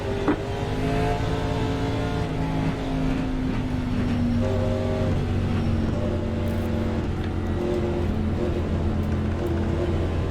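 Pace car engine in the iRacing sim, a steady droning motor with layered harmonic whine holding at a constant pitch throughout, loud and close with no talk.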